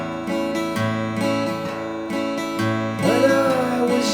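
Slow guitar picking with a bass note alternating between strings and light strums in between, evenly paced and close, with no talking.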